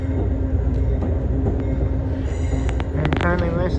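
Amtrak's Capitol Limited train pulls out of Chicago Union Station with a loud, continuous low rumble of rolling wheels and car noise, and brief metallic squeals and clanks near the end.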